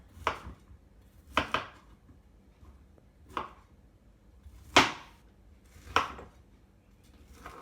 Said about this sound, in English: We're just roughly chopping it. Just so that it's in smaller florets that can be easily processed in my food processor.